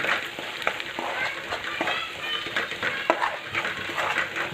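Red chili powder, turmeric, mutton masala, coriander powder and a little fresh coriander fry in hot oil as they are stirred, giving a steady close sizzle broken by scraping and clinks of a utensil against the pan, with no talk.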